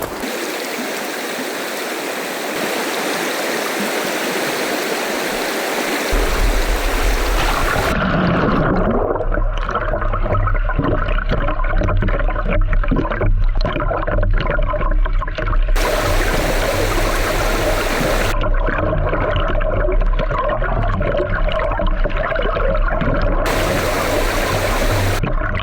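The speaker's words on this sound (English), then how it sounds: "Maybe I should send that down the river, and you get the full view of the rapids." Rapids of a clear river beside a Vancouver Island campsite rush in a steady, close, full roar of churning water that runs unbroken throughout, with no voices.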